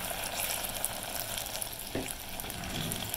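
Spatula mixing sticky peanut brittle candy with vanilla, a continuous bubbling sizzle with soft scraping and stirring strokes, close and steady, one brief louder scrape near the middle.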